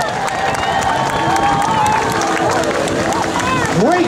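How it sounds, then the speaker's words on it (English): Crowd at an outdoor water ski show cheering and applauding amid steady babble, with whistles and shouts rising over a continuous loud wash of noise and a boat or water vehicle nearby. "how about a nice round of applause for both of these young lady elves out here"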